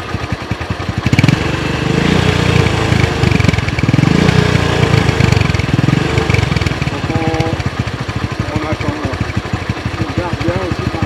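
A small motorcycle engine putters at a steady idle throughout, with a rapid chugging pulse, while people talk nearby, near elephants in Kenya.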